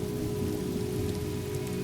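Steady, dense rain patters on surfaces outside a cabin in a continuous even hiss, with no distinct thunder clap in this short stretch.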